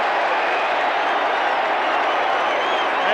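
Essendon supporters at the 1984 Grand Final against Hawthorn roar and applaud after a free kick, a dense, loud, unbroken wash of crowd noise from a large stadium filling the whole moment.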